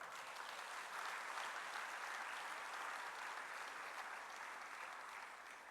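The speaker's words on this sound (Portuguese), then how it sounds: "a MPD merece um salva de palmas" Sustained applause from an audience at a political rally in Cabo Verde marking the party's anniversary, a steady dense clapping wash that holds evenly throughout without voices on top.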